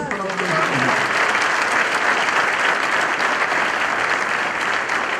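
Loud, sustained applause from a church congregation during a Friday service, with thick clapping filling the room at an even level from start to finish.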